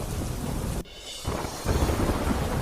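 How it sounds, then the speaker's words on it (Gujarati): A heavy downpour pounds surfaces in Prantij, Sabarkantha, with thunder rumbling through it; the loud roar briefly drops away, then returns even stronger. "સાબરકાંઠાના પ્રાંતિજમાં ધોધમાર વરસાદ"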